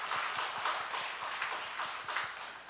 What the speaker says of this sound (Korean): 우리 다시 한 번 더 격려의 박수 하겠습니다